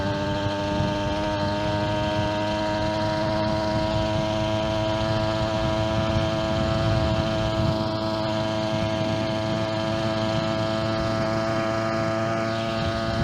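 Small Huffy Nel Lusso motorized bicycle engine running flat out at full speed, a steady, fairly quiet whining drone with sustained tonal harmonics and no pauses, heard alone with no talking.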